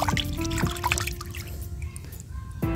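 Water trickles and drips into a container as liquid micro-fertilizer and insecticide are dissolved for chili plants, a steady pouring sound close by.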